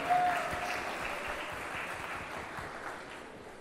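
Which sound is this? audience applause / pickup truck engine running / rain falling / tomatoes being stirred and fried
audience applause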